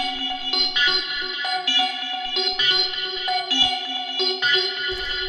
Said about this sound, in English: The first sound that we have here is this first arp,